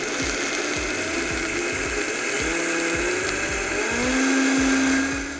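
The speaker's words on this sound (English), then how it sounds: "you're gonna really blend down the oats until it's a nice fine powder" A food processor grinds oats to a fine powder, running continuously with a loud, steady motor whir and a rapid rhythmic chopping rattle, its pitch climbing slightly near the end.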